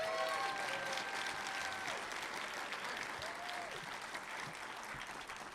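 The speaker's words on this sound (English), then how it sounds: "Give them a big applause." Audience applause for city council members at a State of the City address, a steady crowd clapping from start to finish, fairly faint and distant.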